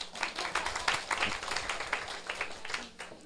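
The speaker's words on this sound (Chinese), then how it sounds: "拍手啊！" An audience at a political lecture class breaks into brief applause, a dense, steady patter of many hands clapping at moderate distance for a few seconds.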